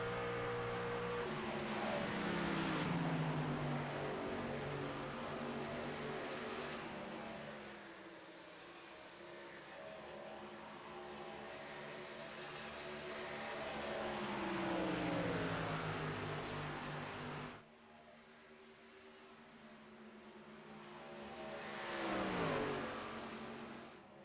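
Race trucks lapping Chicagoland Speedway in a Sportsman Legacy Trucks Series round, engines droning continuously from a distance and swelling in pitch and volume as packs pass, then fading again, faint and without speech.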